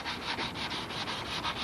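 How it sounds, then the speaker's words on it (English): Sandpaper rubs the balsa wood fuselage of a Brodak Cardinal control-line model airplane in quick, even back-and-forth strokes, a soft rhythmic scratching about six strokes per second, close and quiet with no talk. "He's in sanding heaven here"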